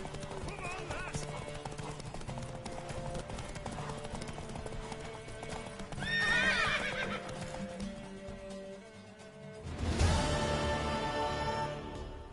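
A horse in the Witcher 3 game galloping with steady clip-clop hoofbeats, giving a loud whinny midway and another near the end, with game dialogue and other sound over it.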